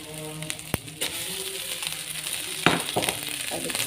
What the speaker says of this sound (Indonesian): Kita aduk rata, kita tuangin nasinya,